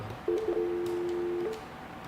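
A caller's landline gives one steady electronic tone lasting about a second, loud and close on the line, with faint noise around it and no talk.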